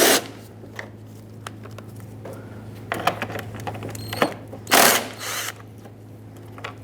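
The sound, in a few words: 10mm socket removing headlight bracket bolts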